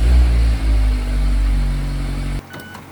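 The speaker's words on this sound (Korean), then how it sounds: "먼저 배기음도 한번 오랜만에 들어볼까요?" A Mazda MX-5 RF sports car's engine holds a steady, loud idle-like drone with a low exhaust rumble for over two seconds, with a brief dip partway through, then cuts off abruptly into quiet.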